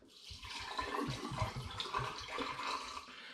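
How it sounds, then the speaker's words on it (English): Liquid pours steadily through a funnel, splashing and gurgling continuously at close range without pause. "because I'm pouring it through a funnel like this, it's mixing well."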